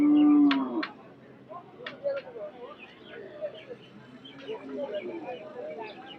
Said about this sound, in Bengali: এগুলো হচ্ছে সভ্য আলমগীর ব্যাপারীর গরু, শেওয়াল গরু।